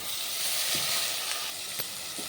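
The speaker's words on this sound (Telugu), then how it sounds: "ఉల్లిపాయలు వేసుకోండి సాల్ట్ కూడా వేసేస్తాను టమాటాలు వేసుకుందాం" Onions and tomatoes with salt sizzle steadily in a pan for a fish curry, a close, continuous hiss with a few soft pops and no talking.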